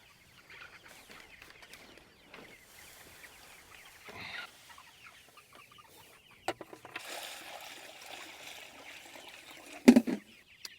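Soft, scattered clucking from a distant flock of young brown sex link hens, with occasional rustling and a sharper, louder cluck near the end.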